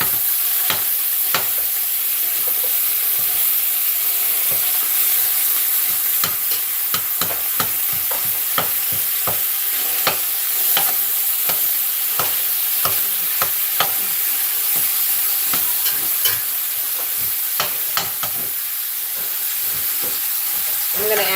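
Two pounds of ground beef and a yellow onion cook in a pan for copycat Wendy's chili, giving a steady close sizzle with frequent sharp scraping clicks as a utensil stirs, and no talk.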